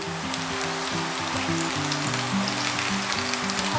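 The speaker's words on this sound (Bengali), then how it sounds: "খুব বেশি ভাজবো না, হালকা ভাজবো।" Mutton fries lightly in a pan over a high gas flame for a Bengali mutton curry, a loud dense sizzle holding steady and close throughout, with a low tonal hum running underneath.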